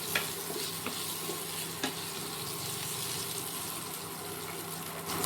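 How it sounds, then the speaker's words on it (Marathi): Diced potato frying in a hot pan for sabudana khichdi after chillies were tempered, giving a steady, close sizzle with a few scraping stirs and no talking. "हा बटाटा घालून घ्यायचा आणि तो पण फ्राय करून घ्यायचा"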